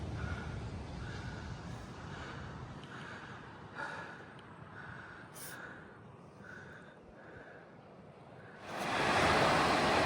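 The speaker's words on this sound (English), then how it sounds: "Found our way to the beach." Steady wash of surf rolling onto a shore, with a louder wave surging in near the end; no voices, just continuous rushing water.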